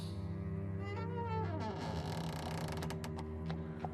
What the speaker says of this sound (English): A slow creak signaled the opening of another door